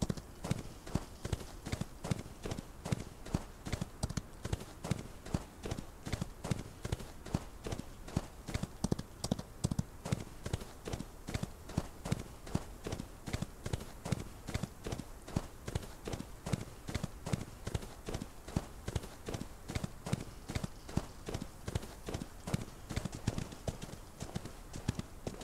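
Horse hooves clip-clop steadily across the full stretch in the Wild West game Outlaws of the Old West, a fast, even rhythm of close, clear hoofbeats with no talking over them.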